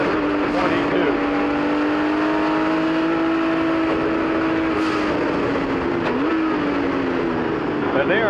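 In-car sound of a 1979 Porsche 935 race car at speed, its engine a loud, steady drone that holds pitch and shifts upward once, with no talk over it.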